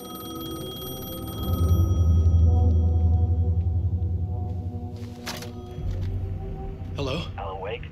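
Telephone ringing in the Alan Wake video game, a steady repeating bell tone over a low ambient rumble, fairly faint, with brief other sounds near the end.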